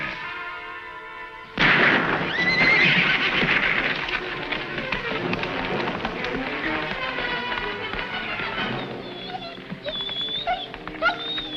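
A horse whinnies shrilly amid a loud, chaotic scuffle of hooves and noise, with a few more high neighs breaking through near the end.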